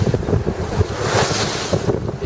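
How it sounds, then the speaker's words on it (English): Strong north wind of 12 to 15 knots blows across the open ocean on a sailing passage, a loud steady roar with waves and surf washing continuously and gusts buffeting the microphone. "through the afternoon, the wind has come up from the north"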